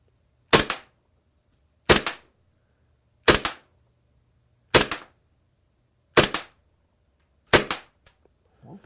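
A WE P08 gas airsoft pistol fires six sharp, loud shots at close range, evenly spaced about every second and a half, with near silence between them and no talking.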